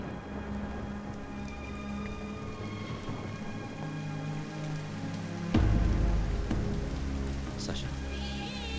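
Rain falls steadily throughout, a continuous broad wash of drops with a low rumble that swells about halfway and a faint distant roll like thunder.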